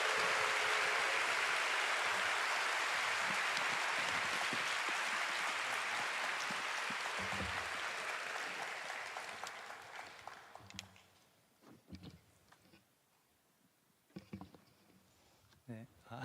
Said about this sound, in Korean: 큰 환영의 박수로 맞이하도록 하겠습니다.